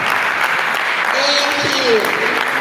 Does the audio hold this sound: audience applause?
yes